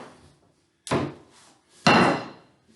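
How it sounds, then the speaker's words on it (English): A hammer dropped during a bifold door installation lands with two sharp wooden thunks about a second apart, close and fairly loud, the second impact heavier and ringing longer, otherwise quiet. "let me drop my hammer first, so I don't uncarefully drop this door"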